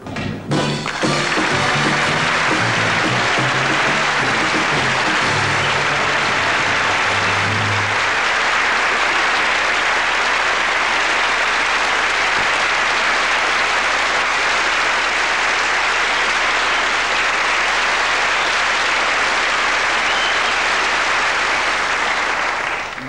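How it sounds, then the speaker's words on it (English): A studio audience at a 1978 Christmas variety show bursts into loud, sustained applause that fills the room, with some music fading out in the first seconds and the clapping continuing evenly throughout. "that applause, it just shows you how lovely you are"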